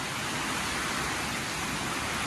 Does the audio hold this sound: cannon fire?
no